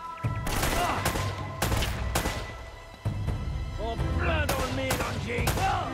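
Gunfire in the video game Uncharted: Drake's Fortune, with sharp shots in several bursts spread across the clip and game music and effects underneath, loud and close.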